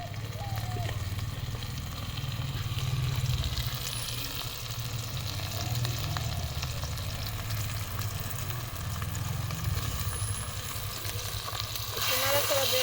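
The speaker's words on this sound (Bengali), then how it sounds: "এখন মাছগুলো দিয়ে দিব।" Spiced river pabda fish sizzling with fried onions in a pan, a dense continuous crackle and hiss close up with a steady low rumble underneath.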